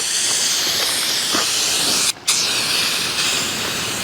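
A spray paint can sprays onto a muscle car, giving a steady, loud hiss that runs continuously with one short break midway.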